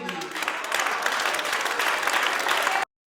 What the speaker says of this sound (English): the church folks up there clapping